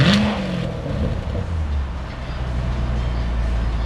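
A 2019 C7 Corvette Grand Sport with a Borla X-pipe and secondary cat delete gives a quick rev that settles into a deep, rumbling idle. The burst is loud and close, with no talk over it.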